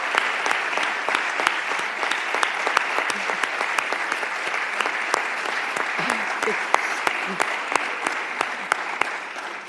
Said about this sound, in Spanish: quiero un aplauso especial para Belén Landaburu.